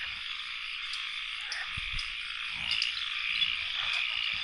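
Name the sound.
frogs croaking in a rainy forest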